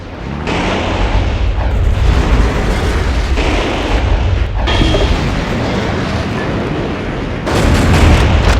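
Booming explosions tear through a destroyed target area in the mech game Metal Wolf Chaos XD, a loud, sustained rumble of blasts with bursts and debris rolling on without pause and no voices.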